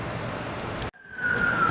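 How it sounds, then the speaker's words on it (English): A far-off ambulance siren on a city street walk near Finsbury Park in London. A faint wail rises out of broad outdoor traffic noise after a brief cut. "Another ambulance, I think, somewhere in the distance."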